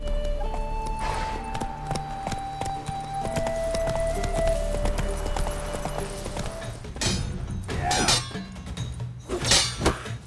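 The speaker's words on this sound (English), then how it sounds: "horses neighing, and the sounds of nature fit very appropriately" Horse hooves clip-clop at an easy pace in The Witcher 3 video game, then a horse neighs loudly a couple of times near the end, with faint musical tones underneath.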